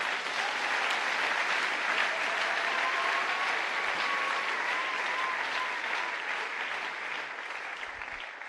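An audience at a church seminar applauds steadily, a dense, sustained clapping from a crowd that slowly fades toward the end, with no talking over it.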